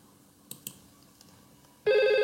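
VoIP desk phone 7001 rings from an incoming call. After a couple of faint clicks, a loud, steady warbling electronic ringtone starts abruptly and continues to the end.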